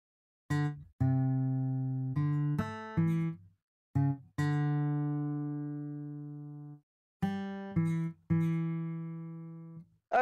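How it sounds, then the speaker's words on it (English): Rosette guitar virtual instrument in Bitwig playing plucked notes and chords, each with a sharp transient and ringing decay, spaced by short silences, one long sustained chord in the middle, close and clean with no talk. "The guitar is plucky to a point where it has a nice big transient"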